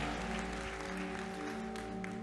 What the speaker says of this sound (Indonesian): sekali lagi tepuk tangan di atas kepala kita